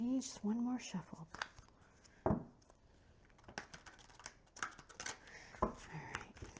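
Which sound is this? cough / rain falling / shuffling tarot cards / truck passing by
shuffling tarot cards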